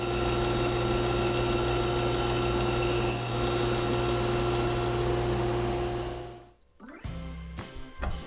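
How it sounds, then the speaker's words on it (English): A bandsaw roughs out tapers on a walnut side-table leg, a loud, steady whine with a constant hum running for about six seconds before the blade winds down and stops, leaving a few faint knocks. "I'm going to rough it out on the bandsaw"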